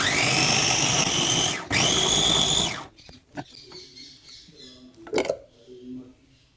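A mixer grinder on its first speed grinds radish and tomato chutney: a loud, steady whirring roar in two bursts with a brief break, then it cuts off and quieter clunks and handling noises follow.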